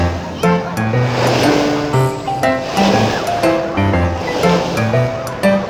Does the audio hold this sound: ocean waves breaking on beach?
yes